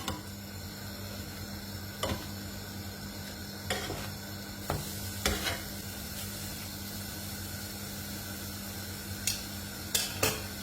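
A shallot and aubergines frying in a pan, giving a steady sizzle throughout, with occasional sharp clicks and scrapes of stirring.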